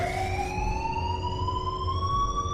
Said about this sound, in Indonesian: suara alarm peringatan kebakaran sudah berbunyi